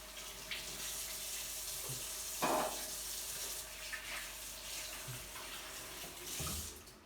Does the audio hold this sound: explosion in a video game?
no